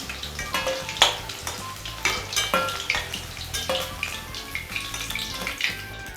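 Chicken koftas frying in hot oil give a steady, crackling sizzle close by, broken by repeated sharp spatters and clinks of a utensil stirring and turning them.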